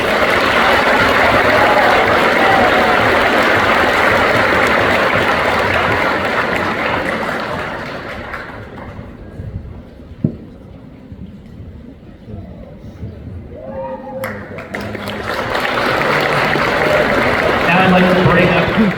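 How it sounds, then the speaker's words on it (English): A school audience applauds two students at a class awards ceremony, a dense, loud wash of clapping that fades to a quieter stretch with a sharp knock before swelling back up. "please give both of these students a round of applause"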